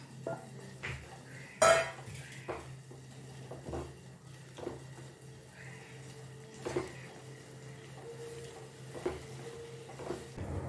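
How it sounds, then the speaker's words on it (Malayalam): Fried cauliflower pieces being tipped into a pan for a cauliflower butter masala and stirred, giving soft clinks and scrapes of utensil on pan, one sharper clatter early on, over a steady low hum. "നമുക്ക് വറുത്ത് വെച്ച കോളിഫ്ലവർ ഇതിലേക്ക് ഇട്ട് കൊടുക്കാം."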